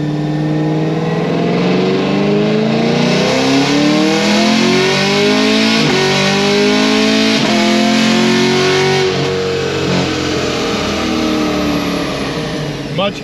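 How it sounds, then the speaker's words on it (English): A car fitted with an upgraded cam and headers revs hard on a dyno during a pull, its loud engine note climbing and dropping through repeated sweeps, with a brief rev-up near the end. "I'm actually going to make one more dyno pull too"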